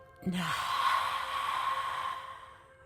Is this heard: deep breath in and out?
yes